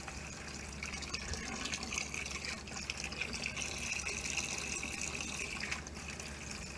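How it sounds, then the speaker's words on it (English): Water streams steadily from the drain of a shuttle bus RV conversion, a continuous broadband splash and trickle that holds at an even level for the whole stretch with no voices. "there's a stream of water coming out of there now"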